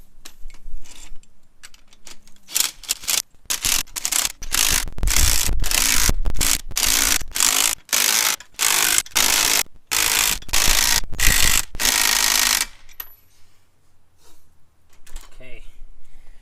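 A ratchet wrench cranks a spring compressor on a Mazda 5 front strut spring, rapid loud clicking strokes in bursts with short pauses, close up, then stopping near the end and leaving faint quiet handling.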